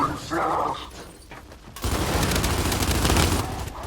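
Sustained rapid gunfire fills an online match of the shooter video game Gears 5, with a quieter stretch first and then a loud, dense burst of shots.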